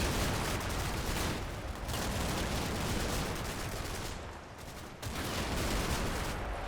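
Churchill tanks pound a machine gun position in Combat Mission: Battle for Normandy, a dense, continuous barrage of gunfire and blasts that roars on without pause, dipping briefly in the middle.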